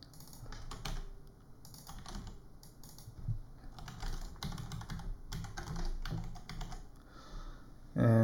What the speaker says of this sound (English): I'm just rolling my fingers across the keyboard.